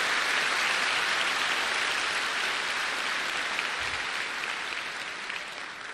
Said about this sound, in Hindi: एक जोरदार ताली दीजिए ऊपर वाले उस ईश्वर के लिए।